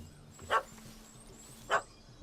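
Two sharp dog barks in The Witcher 3, about a second apart, each short and clear over a quiet ambient bed with no talking.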